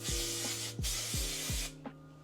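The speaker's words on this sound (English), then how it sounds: "You can also spray the top of this part" Three quick hairspray sprays hiss in succession onto hair, short bursts close by with brief pauses between them.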